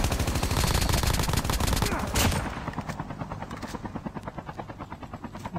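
AK rifle fire in the COD Mobile battle royale game opens with loud, dense automatic bursts, then thins into a slower, rhythmic run of shots.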